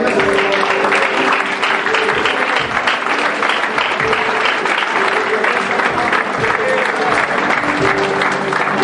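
A church congregation applauds loudly and continuously, a dense, even wash of clapping from many hands that fills the room from start to finish.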